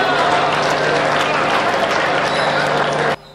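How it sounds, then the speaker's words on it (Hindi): A live audience at a comedy poetry recital in Hathras bursts into loud, dense clapping and crowd noise, sustained for about three seconds before cutting off abruptly. "एक बार तालियां बजा दीजिए आप लोग"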